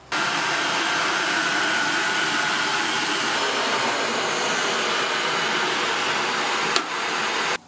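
A Tineco Carpet One carpet cleaner runs in drying mode, a steady loud broadband whoosh of suction and motor noise that holds evenly throughout, with a slight shift in tone midway and a brief bump near the end.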